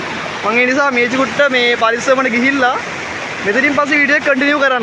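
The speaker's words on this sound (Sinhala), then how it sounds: "මොකද වතුරේ සද්ද වැඩි ගොඩක්." A small stream near a boarding house rushes loudly and continuously over rocks, a steady broadband wash of water close by, with a person talking over it almost throughout.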